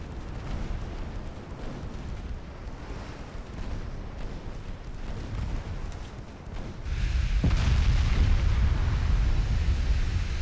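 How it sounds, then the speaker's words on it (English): Three-inch naval guns firing in a video game, a continuous rumbling barrage of muffled booms that swells noticeably louder and denser partway through, with one sharper report cutting above the steady pounding. "Three-inch guns just peppering away."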